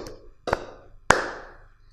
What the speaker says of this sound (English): Clap and say.